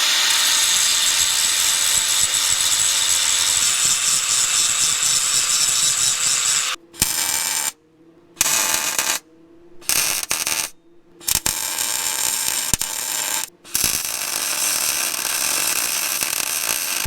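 Small welder tacking a little sensor bracket onto a farm spreader outdoors, a loud steady crackling buzz running in long bursts with several abrupt stops and restarts, no talking.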